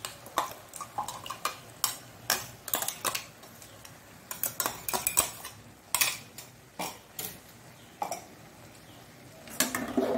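Spatula or spoon stirring Mangalore-style mixed vegetable sukka in a metal pan: irregular scraping and clinking knocks in bursts, close and clear, with short pauses between strokes and no talk.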